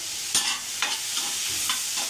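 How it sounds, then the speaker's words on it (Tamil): Cashews sautéing in hot oil in a pan, a steady soft sizzle with a few spoon scrapes of stirring, close and alone. "இதையும் போட்டு நல்லா வதக்கிக்கலாம்"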